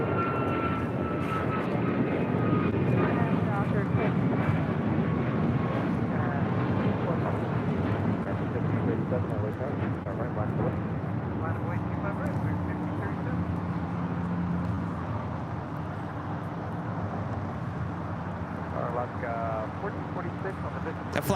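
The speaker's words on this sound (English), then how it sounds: "That flight heading to Orlando on that United Airlines flight 1621 at 737 MAX 9 taking off on 25 right." United Airlines Boeing 737 MAX 9 jet taking off from LAX runway 25 right, a sustained engine roar that slowly fades while someone talks over it.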